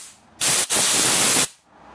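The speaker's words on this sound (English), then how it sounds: "Now to clean the screen here on the pickup tube, all I'm going to do is just air blow it." Compressed air blasts clean the pickup tube screen of a Briggs lawn mower carburetor: a loud, close hiss lasting about a second, briefly cut off and resumed, with no talk.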